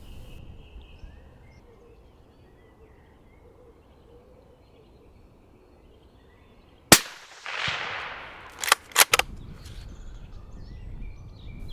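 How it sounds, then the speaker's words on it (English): A single sharp rifle shot fired at a roebuck while deer stalking at a woodland edge in the Home Counties, a loud crack with a brief rolling echo, followed by a few scattered rustles and thumps against quiet outdoor ambience. "now is the time to take the shot"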